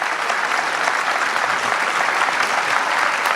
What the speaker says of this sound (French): On peut vous applaudir absolument en ville de Pracontal.